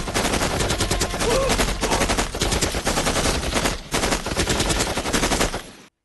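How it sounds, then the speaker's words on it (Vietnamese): Gunfire fills a scene from a Hong Kong kung fu gang action film. Loud, dense automatic bursts run almost nonstop, break briefly once, then resume before cutting off abruptly. "Nổ súng, mau lên."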